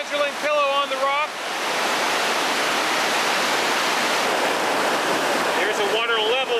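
Whitewater river rapids roaring at Hongerling Falls, with a steady, loud broadband rush of churning water that fills most of the clip, and people talking briefly at the start and end.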